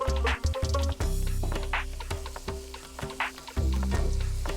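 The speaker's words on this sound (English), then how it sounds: "Now we're going to add the onions, which we haven't had time to fry down, but we're just going to add all the onion." Curry pan loud with close sizzling and frying as onions go in, with squishy stirring and a few sharp knocks against the pan; a steady hum sits underneath.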